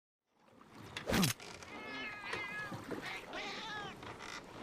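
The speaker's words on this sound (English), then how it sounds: "A talking cat." A cat meows loudly once, then keeps making chirpy, talkative vocal sounds over a steady background noise.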